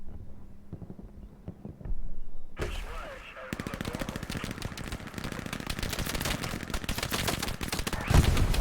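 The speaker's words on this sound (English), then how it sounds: "They're just shooting through the smoke." Rapid bursts of gunfire in the World War II shooter Hell Let Loose, starting with scattered distant shots, then a loud, dense stretch of continuous automatic fire with wind noise.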